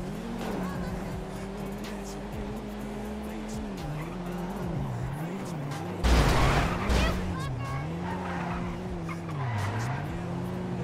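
A car drives and skids in a video game, its engine whining and rising and falling through gear changes, with a loud burst of tire squeal midway, while people talk over it.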